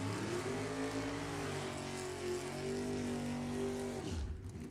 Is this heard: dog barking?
no